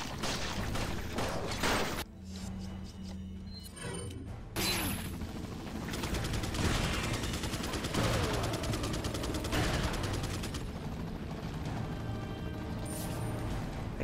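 Gunfire in Resident Evil 4 during a chopper shootout, with dense bursts of rapid shots and crashes, a brief lull after two seconds, then sustained heavy firing to the end.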